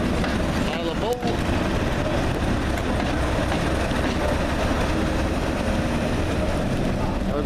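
A heritage diesel train at the Bo'ness winter diesel gala rumbles steadily close by, a continuous heavy mechanical drone with a brief clank near the start.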